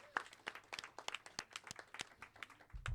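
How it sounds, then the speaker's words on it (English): An audience breaks into a short burst of scattered clapping, a few dozen sharp claps spread across a few seconds at moderate distance, with a loud thump near the end. "give yourselves a round of applause"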